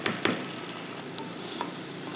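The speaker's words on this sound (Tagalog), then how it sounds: "Gisa lang natin guys until mag-smooth ang ating sibuyas at mag-brown ng konti ang ating bawang." Onions and garlic sautéing in a pan for corn soup, a soft continuous sizzle broken by a few brief clicks of a stirring utensil.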